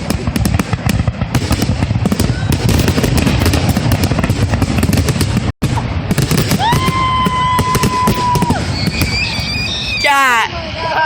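Fireworks explode at a fair in a loud, dense volley of bangs and crackles, followed by rising whistles and screeching shells near the end; crowd noise and voices run underneath.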